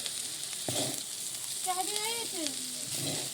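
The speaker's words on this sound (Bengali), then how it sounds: "কড়াইতে তেল দিয়ে তেলটা গরম করে নিয়েছি পটল আলু একসাথে ভেজে নেব" Pointed gourd and potato pieces frying in hot oil in a wok give a soft steady sizzle, with a brief clatter and a faint squeaky tone over it.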